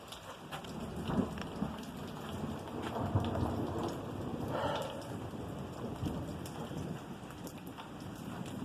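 Thunder rumbling during a lightning storm at a rest stop, low rolling booms over steady rain pattering on surfaces, heard from under cover at moderate distance.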